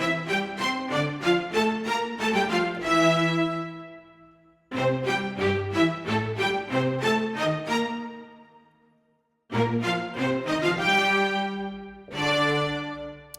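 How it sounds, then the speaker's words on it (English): CineStrings CORE string ensemble of violins, violas and cellos playing together across three octaves, three loud sustained chord phrases separated by brief silences, with no voices. "violas, and cellos in octaves."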